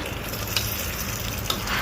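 Tempering spices sizzle in a pan for a bottle gourd and lentil curry, a close, steady crackling hiss with a couple of faint clicks and no voices.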